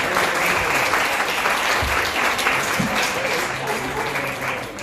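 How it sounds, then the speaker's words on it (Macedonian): Audience applauding at a business café event, a sustained dense wash of clapping from a full room, steady and loud for several seconds without speech. "Мислам дека заслужи еден убав аплауз."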